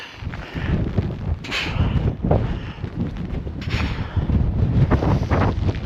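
Strong wind buffets the microphone in loud, continuous rumbling gusts at Saxhóll Crater in Iceland, with no one speaking.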